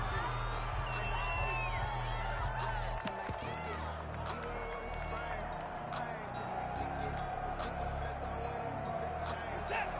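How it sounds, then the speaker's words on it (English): Stadium crowd noise from the Madden football video game: a steady, dense roar of a large crowd with whoops and scattered cheers, continuous throughout, under a commentator talking. "The crowd may be losing just a little bit of the edge after back-to-back punts."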